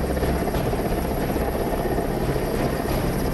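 An Air Force Mi-17 helicopter during a rescue, its rotor and engine producing a loud, steady, dense roar that fills the whole clip without a break.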